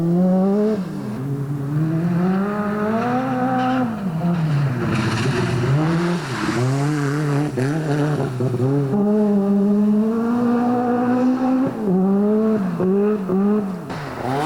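A 1986 rally car howls through special stage 16 at Mystery Creek's agricultural complex near Hamilton, engine loud and close, revving up and down through gear changes continuously for the whole run.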